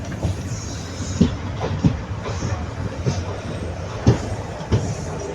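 A passenger train on the Karur to Tirunelveli route runs on rails with a steady rolling rumble. Periodic wheel clacks recur every second or so, with no voices.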